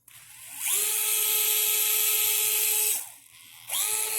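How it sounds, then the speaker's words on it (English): A DeWalt 8V gyroscopic screwdriver whirs at full speed in two bursts, a steady high motor whine that spins up, holds for about two seconds, cuts out and starts again. "Peaking out at about 430 RPMs. It's a gyroscopic screwdriver."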